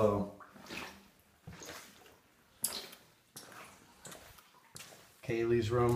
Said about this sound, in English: And as I walk through this, the water comes up from below.